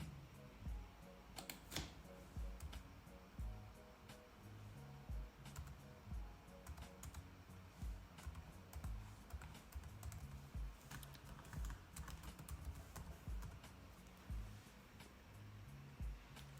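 Steady typing on a computer keyboard while an email and password are entered, quiet continuous key clicks with irregular rhythm and no speech.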